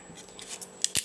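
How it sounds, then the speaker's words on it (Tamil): Carrots being cut lengthwise into strips for a kurma, with a few quiet knife cuts and then two sharp, close chops near the end. "கேரட் வந்து நீட் வாக்கில் கட் பண்ணால் இன்னும் நல்லாயிருக்கும் குருமா குழம்புக்கு"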